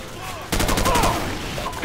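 A rapid automatic burst in Call of Duty 4: Modern Warfare rattles into the player, about six quick close shots in a row, then fading into a low rumble with faint whistling tones.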